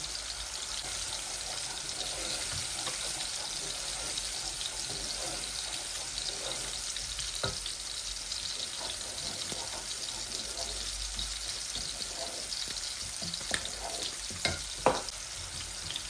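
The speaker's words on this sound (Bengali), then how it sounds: "মাছগুলো আস্তে আস্তে ভাজা হোক।" Fish frying slowly in a pan with turmeric nearby, giving a steady close hiss of hot oil with a few scattered pops and light clinks, moderately quiet throughout.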